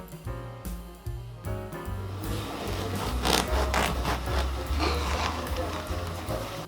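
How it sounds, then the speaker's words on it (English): A knife saws through a freshly baked sourdough loaf to cut a thick slice, with a few distinct scraping strokes at first, then continuous rough crunchy sawing at close range. "I had a freshly baked sourdough from the day before, so I cut up a generous slice of bread"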